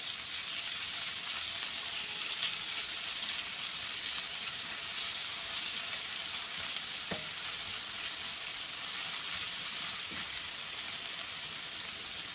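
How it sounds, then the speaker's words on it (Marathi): Tomato pieces and red chillies sautéing in a hot pan make a continuous even sizzle and hiss, with a couple of faint utensil taps, heard up close with no voices. "घालायचे आपल्याला टमाटर तुकड्या लाल मिरच्या आणि हे थोडंसं असं परतून घ्यायचं आहे"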